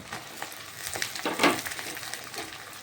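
Capsicum and onions fry in a pan for chilli chicken, giving a moderate crackling sizzle with irregular stirring bursts, loudest in a brief scrape midway.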